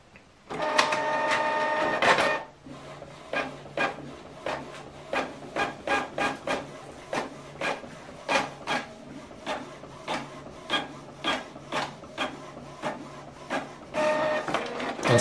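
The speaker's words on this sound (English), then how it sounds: "Now this document is printing." A Canon MG3600 inkjet printer running off a document, with a steady mechanical whir followed by a long series of regular clicking, shuttling strokes as the print head passes back and forth, close and clear.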